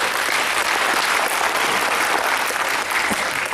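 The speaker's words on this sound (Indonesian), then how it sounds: "Kita beri aplaus." A steady, dense wave of audience applause fills a hall at the 67th anniversary celebration of HMI, many hands clapping loudly and continuously without a break.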